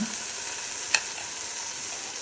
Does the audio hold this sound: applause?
no